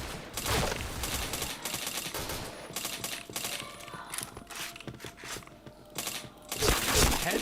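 Rapid gunfire in a first-person shooter video game, dense bursts of shots cracking in quick succession with brief lulls, then heavier volleys near the end.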